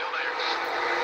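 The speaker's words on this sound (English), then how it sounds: "those are all loud cars" Loud race car engines roar together at Vegas in a racing video game, a steady dense drone of several cars running close in a pack, with a commentator talking over them throughout.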